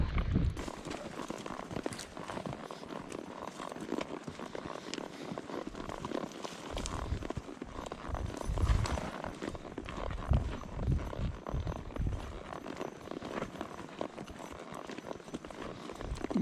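Horses' hooves clop steadily on a riverside trail in San Rafael, Utah, quiet and a little distant, with faint rustling and brief soft voices in the background.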